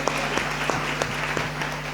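A church congregation claps hands together in a lively, fairly close round of applause, with rhythmic sharp claps standing out over a steady wash of clapping and a faint background hum.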